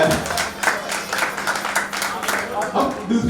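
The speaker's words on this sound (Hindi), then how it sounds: "सही है यार, जोरदार तालियां बजाएं।" An audience claps in a brisk, crowded burst that rises and falls in waves over a few seconds, fairly close and loud, with some voices mixed in.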